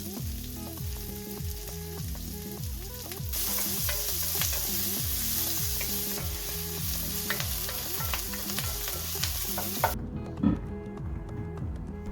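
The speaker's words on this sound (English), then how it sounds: "I start by sauteing chopped onion in neutral oil." Chopped onion sautés in neutral oil in a pan, a steady, close sizzle and crackle lasting throughout, with a faint rhythmic background underneath and a couple of small clinks near the end.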